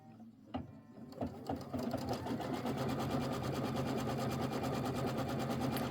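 An embroidery sewing machine tacks down quilting fabric, starting with a few sparse clicks before settling into a fast, steady rhythmic stitching hum that runs evenly to the end, close by and without talk.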